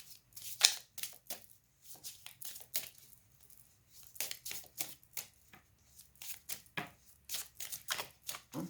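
Tarot cards shuffled and handled for a reading draw, a run of quick papery riffles and flicks in irregular bursts, close and fairly quiet with no talking.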